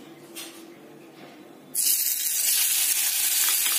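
Paneer pieces dropped into hot oil in a kadhai, setting off a sudden loud, steady hiss and sizzle after a quiet start, which then continues evenly.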